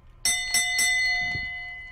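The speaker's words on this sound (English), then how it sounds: "That's a really loud bell sound." A loud bell rings inside the video game Evil Neighbor, three quick bright strikes in succession, then a sustained metallic tone slowly fading away.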